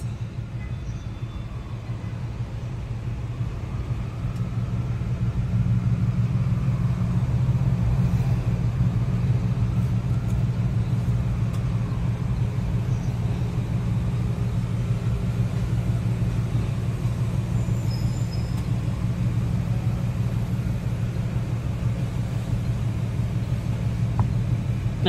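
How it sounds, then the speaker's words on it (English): Backed-up road traffic rumbling near a drawbridge where boats pass, a steady low engine drone from idling and creeping cars, continuous and fairly loud with no talk over it. "You got traffic right here backed up"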